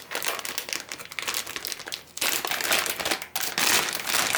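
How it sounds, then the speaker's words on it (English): Motherboard packaging for a Gigabyte GA-Z170X-UD5 being peeled open, a close, loud run of crinkling and crackling plastic with short pauses and no talking. "So we're going to go ahead and peel it open."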